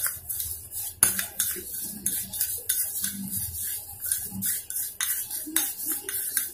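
A spoon stirs sugar into a lemon shikanji mix, giving quick metallic clinks and scrapes against the vessel. The taps come in an irregular rhythm, close and clear, with no talk.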